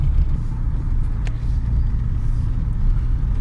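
A car creeps along soft ground at about 20 km/h, its tyres pulled sideways by the surface, giving a steady, close, low engine and road rumble with no talking.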